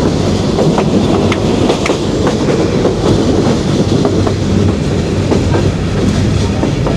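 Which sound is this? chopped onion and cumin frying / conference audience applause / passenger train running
passenger train running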